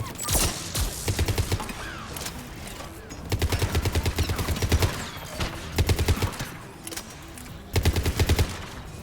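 Turret gunfire in Mass Effect 3 during the quarian and geth conflict, repeated rapid automatic bursts separated by brief pauses, loud and close, with no talking.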